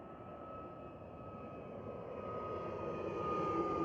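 A KLM Airbus A321neo at Schiphol gives a steady, broadband jet engine roar that swells gradually as the airliner draws nearer, with a faint tonal whine riding above the rumble.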